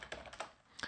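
Quiet keystrokes on a computer keyboard as a terminal command is typed, a quick run of about four soft clicks in a near-silent room.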